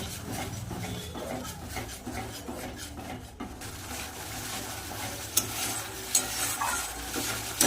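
Beaten yogurt and sugar being stirred into masala frying in oil for a catla fish curry: a continuous wet sizzle under steady spoon scraping against the pan, with a few sharper clinks of utensil on metal near the end.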